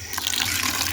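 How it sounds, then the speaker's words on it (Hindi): Water poured into a bucket of wheat, millet and corn chicken feed being readied for fermentation, a short, soft splashing gush close by. "इसके अंदर पानी डाल देंगे।"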